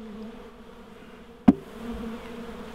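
Honeybees stirred up during a transfer into a top bar hive made from a fridge hum in a low, steady, close drone, with one sharp tap near the middle and no talking.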